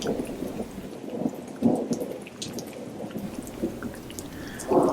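Rain falls outdoors, a soft patter of scattered drops over a low rumble, with a few louder swells of washing water; fairly quiet and steady, no one speaking.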